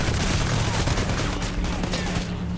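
Machine gun fire from the video game Hatred rattles without a break, loud and dense, as a steady fusillade of rapid shots.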